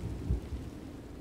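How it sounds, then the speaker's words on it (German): Low, rolling thunder from a Minecraft thunderstorm sits under a steady hiss of rain, quiet and distant, with a slight swell partway through and no voices. "Boah, das Gewitter, ne?"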